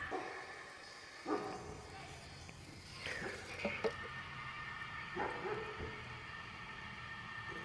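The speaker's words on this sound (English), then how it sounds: "Neighborhood dogs are barking." Neighborhood dogs bark faintly in the distance, a few scattered yips over a steady background hum.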